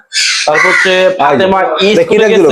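A talking myna bird mimics a crow's cawing with a run of loud, harsh caws close up, while a person talks over the calls.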